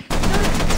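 Turret gunfire in the Content Warning video game breaks out abruptly as a loud, rapid burst of shots that continues to the end of the brief moment.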